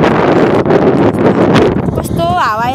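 Wind buffets an outdoor microphone in a steady, loud broadband rumble that runs through the whole stretch, and a voice rises briefly near the end.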